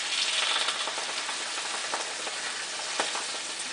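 Coconut milk poured into sizzling curry peanut paste in a pan: a steady loud frying hiss fills the whole stretch, with faint stirring rattles underneath.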